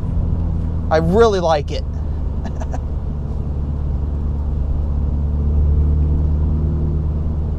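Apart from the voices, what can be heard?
Mini John Cooper Works GP3 engine and exhaust sound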